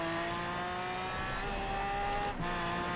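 A Mosler race car in Forza Horizon 4 holds a steady high-revving engine drone with a brief tire squeal near the end, loud and continuous with no talk.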